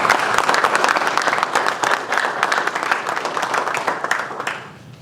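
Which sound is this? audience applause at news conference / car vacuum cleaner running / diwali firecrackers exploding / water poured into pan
audience applause at news conference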